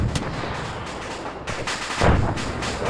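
Anti-tank weapons firing during a video game training workshop, several loud booming blasts in quick succession with rolling echoes, close and heavy, no talking.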